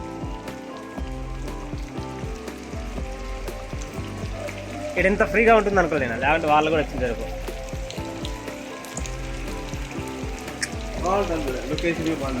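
Rain falls at Gokarna, a soft steady patter with sizzling spatter heard close, while someone talks over it and the patter swells for a few seconds midway.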